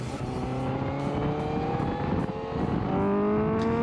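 A Honda CBR1000RR-R SP Fireblade inline-four engine howls continuously at high revs on a race circuit, its pitch climbing steadily with a brief dip as it shifts, loud and near.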